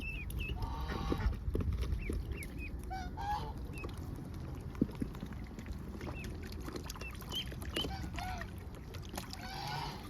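Ducks, including Welsh Harlequins, and geese call repeatedly on a farm with short honks and quacks scattered over a steady rumbling background, some near and some farther off.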